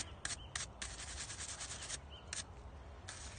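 A scrubbing brush rubs down tools in a morning cleaning routine, making close, scratchy bristle strokes in short bursts with brief gaps, fairly quiet.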